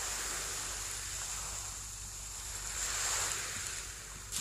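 Ocean waves wash around an isolated island in the horror game Ao Oni 3, a soft, steady surf hiss with gentle swells, quiet and without voices.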